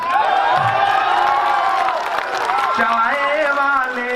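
Audience at a Hindi-Urdu poetry recital cheers, whoops and claps loudly throughout, a dense crowd roar with shouting voices rising above it.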